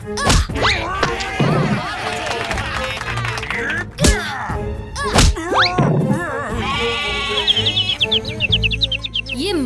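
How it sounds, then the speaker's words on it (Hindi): A goat in a Hindi children's cartoon bleats in wavering, quivering cries that rise over a busy, loud mix of music and sharp thwacks and thumps. "ये मामूली सी बकरी है"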